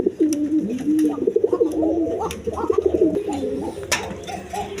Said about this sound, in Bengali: দর্শকবৃন্দ দেখেন এইখানে আরেক পেয়ার কবুতর আছে।